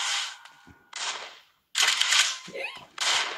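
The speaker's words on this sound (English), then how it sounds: "Shotgun." Shotgun blasts in the Battlelands Battle Royale video game: several loud, broad bursts with short gaps between them, punctuated by brief clicks and tonal game effects, with no talking.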